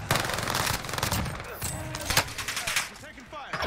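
PPSh submachine gun blazing in a video game, continuous loud automatic fire with a few sharper cracks mixed in and some quieter scattered shots near the end, no talk over it.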